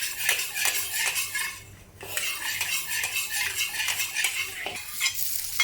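Minced ginger and garlic stir-frying in hot oil in a pan, a bright continuous sizzle overlaid with quick clattering scrapes of a utensil against the metal, close up and fairly loud, with no voices.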